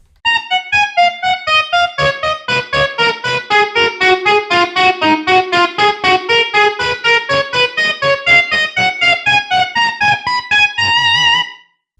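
Electric guitar plays a fast triplet note sequence with the main delay switched off, leaving distinct, evenly spaced plucked notes with crisp attacks. The close, loud line steps up and down in pitch for about ten seconds.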